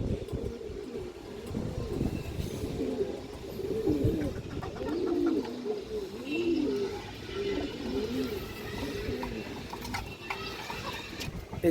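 Domestic flying pigeons coo repeatedly at close range, layered throaty rolling calls from several birds in steady succession, with a few faint knocks and rustles in the background.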